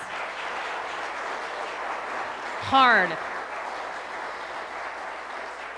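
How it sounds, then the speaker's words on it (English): An audience applauds at a metaphysical weekend event at the Althea Center, steady clapping that carries on throughout, briefly overlapped by a single spoken word. "So can we give them a round of applause, please?"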